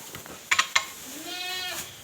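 Goats bleat during morning farm chores: a few sharp clanks of feeders or gates, then a drawn-out, wavering bleat close by, with no talking.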